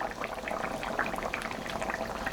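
Fish added to a simmering curry of rui and mrigel fish in mustard-poppy sauce, heard as steady, close bubbling and soft liquid gurgling, fairly quiet and with no talk.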